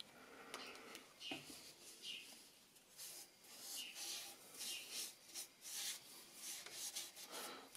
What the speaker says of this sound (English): I'm going to get some sanding sealer on there.